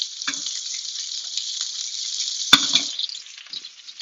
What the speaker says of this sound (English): Make sure I'm stirring the couscous.